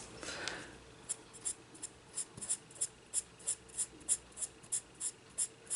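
Derwent pastel pencils scratch across paper during adult colouring, a steady run of short, evenly spaced strokes, faint and close, with no voices.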